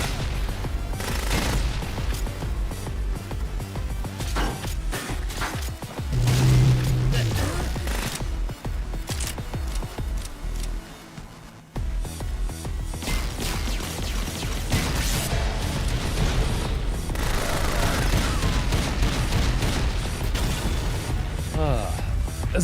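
Rapid machine gun fire and explosive crashes in Bionic Commando Rearmed, loud and near continuous with a brief drop midway, mixed with game music and a voice talking.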